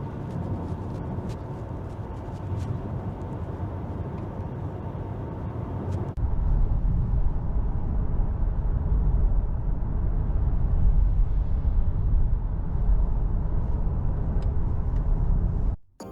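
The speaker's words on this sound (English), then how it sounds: "Let's go to BMW and check and compare the noise of the i5 sedan." Interior road noise in a BMW i5 sedan while driving: a steady low rumble and tire roar that grows somewhat louder partway through, then cuts off abruptly at the end.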